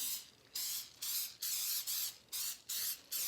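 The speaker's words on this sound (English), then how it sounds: "we're gonna spray it with our Baker's Bake Easy" Four bursts of baking spray onto a glass Pyrex dish, each a sustained hiss lasting about half a second, separated by short pauses, close and fairly loud.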